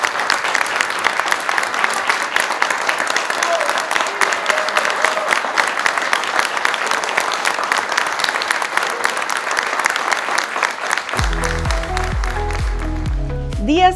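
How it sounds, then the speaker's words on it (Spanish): Strong, dense applause from a crowd at a health-program event on palliative care, loud and continuous for most of the stretch, with musical tones rising in at the very end. "Damos un fuerte aplauso."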